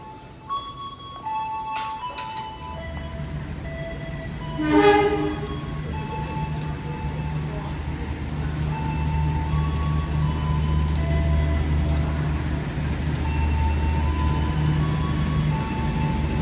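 Heard from inside an economy carriage, a train hauled by a CC201 locomotive in vintage livery runs from Bandung to Yogyakarta with a steady low rumble, some short tonal chimes early on, and a horn blast partway through.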